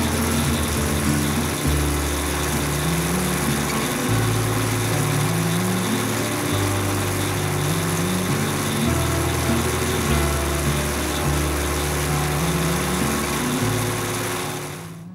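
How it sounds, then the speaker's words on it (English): A Hayter Osprey 46 petrol lawn mower engine runs steadily close by, a loud droning hum whose pitch steps up and down as the load shifts, with no talking. "So I've just finished mowing this lawn with the Hayter Osprey 46"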